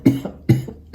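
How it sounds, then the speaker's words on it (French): A woman gives three short, loud, close coughs in quick succession, each a sharp burst with a brief trailing rasp, and no other sound is heard. "j'ai une petite toux, c'est les enfants qui me l'ont refilé"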